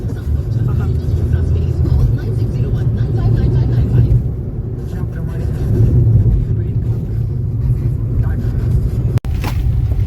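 A car crawls slowly along a badly damaged road, its steady engine rumble and road noise loud and continuous, with a brief sharp knock near the end and a voice talking over it.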